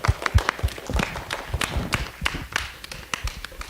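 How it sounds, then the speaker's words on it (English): An audience applauding speakers at the close of a talk event, scattered hand claps and taps close by, irregular and moderately loud, with no voices over them. "If we could get one more round of applause for all of our speakers tonight"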